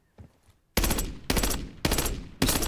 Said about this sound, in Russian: Типа, ну, очередями. По три патрона пускает.